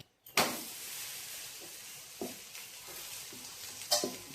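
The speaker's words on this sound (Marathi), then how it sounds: "हे थालीपीठ तव्यावर टाकणार आहे." Thalipeeth flatbread is laid on a hot griddle with a little oil and lets out a sudden close sizzle. A steady soft frying hiss follows, with a few scrapes and light knocks of a utensil on the pan.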